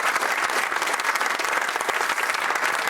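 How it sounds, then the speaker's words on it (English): Studio audience on the Countdown game show applauds the two contestants, a dense, steady wash of clapping that fills the whole stretch at an even, close level. "Let's have a big round of applause for Aset and Fiona."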